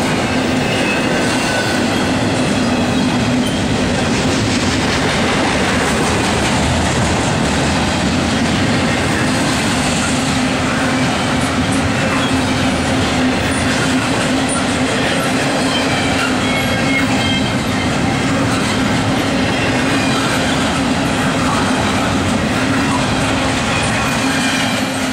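Norfolk Southern freight train NS 218, led by CW44-9 and SD70 diesel locomotives, passing near milepost 301 with a loud, steady roar of wheels and rail cars and faint clickety-clack, continuous and close for the whole stretch.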